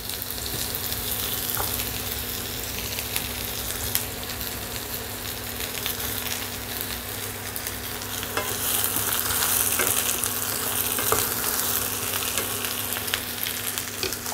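Small-cut eggplant frying in a little oil in a pan, a dense, loud, continuous sizzle with steady crackle and occasional stirring clicks, close up and without voices, holding a low steady hum underneath.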